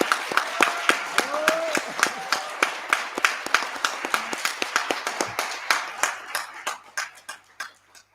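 A conference audience claps at a celebration, the applause dense at first and thinning to scattered individual claps. A brief voice sounds near the start.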